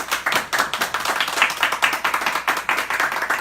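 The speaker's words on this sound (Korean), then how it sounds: "박수 부탁드리겠습니다." A small group applauds at a press conference marking a policy agreement between a care workers' union and a political party, with distinct, fairly quick hand claps in a close, moderately loud burst that runs the whole time.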